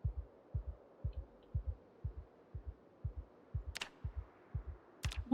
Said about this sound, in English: Oh, you can hear heartbeat.